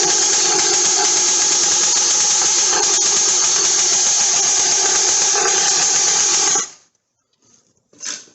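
A Ms460 54mm engine on a motorized bicycle runs for the first time, a loud, steady, close buzzing roar for several seconds that cuts off abruptly, followed by a brief faint noise.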